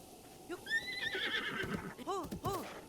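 A horse in Zelda Breath of the Wild whinnies loudly with a rising, trailing neigh, followed by a few clip-clop hoof steps and snorts up close.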